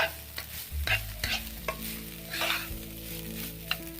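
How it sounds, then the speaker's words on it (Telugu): Vegetable fried rice stirred and tossed in a hot pan, with a continuous sizzle and several scraping strokes of a spatula, near and clear, with no talking. "మీరు బాగా కలుపుకుంటూ ఉంటే పొడి పొడిగా వచ్చింది"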